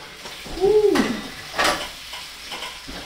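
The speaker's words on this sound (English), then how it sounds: "You hear that sizzle?" A Cornish hen roasting in a pan gives off a soft, steady sizzle, close by, broken by a couple of clanking pan or utensil knocks and a brief squeak, with no talking.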